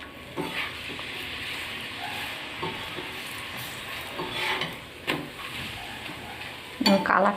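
A spinach paratha fries in white oil on a pan, a faint steady sizzle beneath occasional scraping and turning strokes from a spatula, with a louder clatter near the end; no one speaks.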